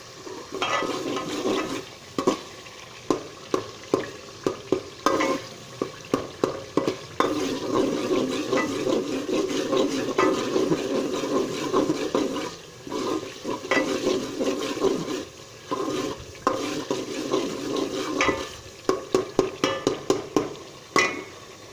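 Spices and boiled black chickpeas are stirred and fried in a pot for kala chana pulao, a steady close sizzle broken by repeated rhythmic scrapes and clinks of a spoon against the pot.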